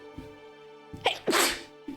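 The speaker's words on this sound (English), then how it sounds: "Oh god, I need to sneeze." A single loud sneeze right up close, a sharp intake followed by a bright, explosive burst, heard alone with no talking.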